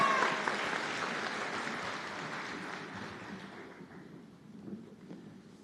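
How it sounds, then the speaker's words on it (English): Applause from a ceremony audience for a group of nursing graduates at a white coat ceremony, a broad dense patter that is loudest at the start and gradually thins and fades over several seconds. "Another round of applause for this great group."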